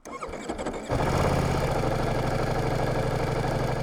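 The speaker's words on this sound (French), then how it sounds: "ce moteur, ce V4 Gran Turismo a dans le ventre, et on va le démarrer pour que vous entendiez un petit peu déjà sa mélodie" A Ducati V4 Granturismo motorcycle engine with an Akrapovic exhaust cranks briefly with starter clatter, then catches and settles into a loud, steady close-up idle.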